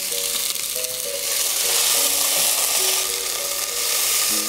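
Spice paste with turmeric and green chillies sautéing in a pan, giving a loud, continuous frying sizzle with faint scraping from stirring and no talk.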